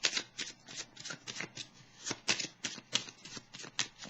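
A deck of tarot cards shuffled by hand during an Aquarius astro-tarot reading, heard as quick, rhythmic, close-up riffles and slaps repeating steadily throughout with no talking.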